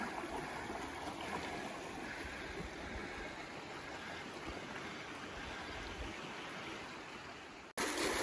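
River water rushes through a gold prospecting sluice on the Israel River in Jefferson, New Hampshire, a loud, continuous broadband wash with no pauses that cuts off briefly near the end.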